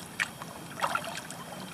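Two soft paddle strokes dip and splash into calm water on Fishing Creek in South Carolina, close to a kayak, with quiet trickling between them.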